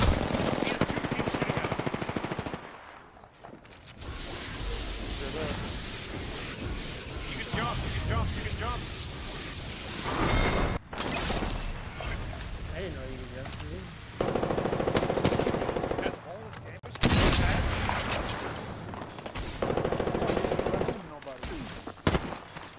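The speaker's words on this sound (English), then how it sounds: "He has two teams shooting at him." Sustained bursts of automatic gunfire rattle from two teams in a shooter video game, dense and loud with brief gaps between volleys, while players talk over the shooting.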